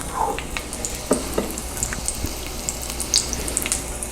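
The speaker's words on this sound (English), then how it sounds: "Oh, you hear the sizzle?" Steady crackling sizzle of pepper steak frying in a hot pan, with small pops and spatters throughout.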